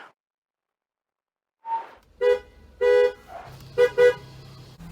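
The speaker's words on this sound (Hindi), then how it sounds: "और देखिए किस तरीके से कार जो है हॉर्न बजा रही है।" A car horn sounds in a series of short toots, several separate beeps of differing lengths, the last two quick together, with a low engine hum underneath and silence before.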